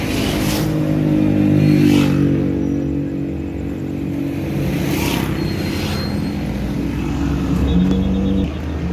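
A scooter engine revs and rumbles up close while riding out to an eastern scooter club gathering in Lampung, swelling and easing over a continuous low drone with passing whooshes.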